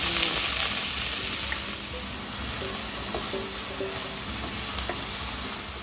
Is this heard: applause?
no